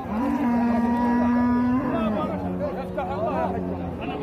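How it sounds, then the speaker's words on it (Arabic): A cow at the Daraw cattle market gives a long, loud, close moo that tapers off, over a steady hubbub of market crowd chatter. "هذه بقرة بلدي كم؟"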